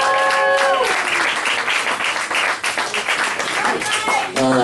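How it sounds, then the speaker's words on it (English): Applause from an awards night audience celebrating first place fills the room with dense, loud clapping throughout, while voices talk and call out over it at the start and end. "Can we get a round of applause for whoever that's going to be?"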